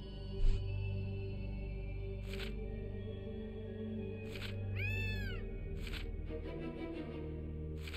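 A cat in the video game Gravity Rush gives a single clear meow over a low, steady game backdrop, with a few brief sound effects scattered around it.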